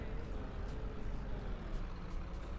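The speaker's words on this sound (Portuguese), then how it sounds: "Vai, ônibus!" A bus pulls away from a stop, its engine a steady low rumble with faint air-brake hiss, fairly loud and continuous with no talk.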